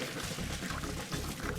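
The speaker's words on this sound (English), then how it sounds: "Just drain the pasta." Cooked capellini pasta being drained, a continuous close splashing pour of water rushing through a colander, steady and fairly loud throughout.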